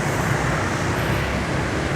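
Dense road traffic surrounds a motorbike rider in Danang, Vietnam, producing a steady, loud wash of engines and road roar without pauses.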